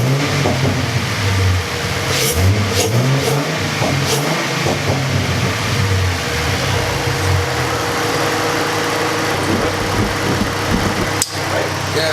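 A car engine fitted with a Roush cold air intake idles and revs, giving a loud, continuous, close rumble with a few throttle blips rising over the steady drone.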